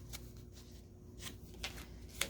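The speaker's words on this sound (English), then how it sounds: "we'll split it in half and we will shuffle them up" A deck of playing cards is split and shuffled up close, with quick papery riffles and crisp flicks in short bursts, quiet and soft against a low background hum.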